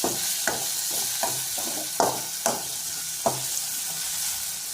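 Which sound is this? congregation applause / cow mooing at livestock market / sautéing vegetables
sautéing vegetables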